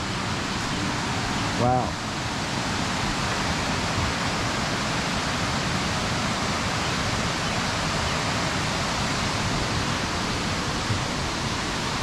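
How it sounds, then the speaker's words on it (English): Millaa Millaa waterfall heard up close as a loud, steady broadband roar of falling water throughout, with a person briefly exclaiming early on. "so we can hear the falls"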